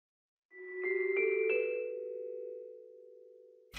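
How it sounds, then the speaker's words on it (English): Celesta played with mallets from the BBC Symphony Orchestra sample library: a few soft, bell-like struck notes in quick succession that ring into one long, gradually fading tone, clean and close, with no talking. "the next thing I got in was these mallets from BBC Symphony Orchestra on Celeste"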